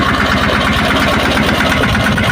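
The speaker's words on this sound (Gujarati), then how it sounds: "દિનેશ કહેવાય ટ્રેક્ટરની ચક્કર મારવા" A loud, close tractor engine chugs steadily with a deep, rhythmic rumble throughout.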